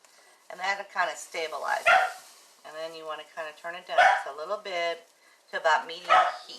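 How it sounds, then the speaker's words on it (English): Dogs bark outside, a few short, distant barks breaking in under a person's steady talking in a kitchen. "Hear my dogs out there, can't you?"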